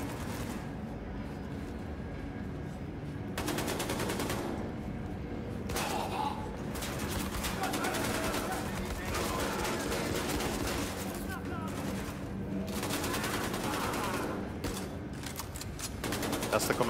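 Sustained gunfire in the first-person shooter Wolfenstein II: The New Colossus, loud dense bursts of rapid shots and heavier blasts running continuously, with a voice talking over the battle.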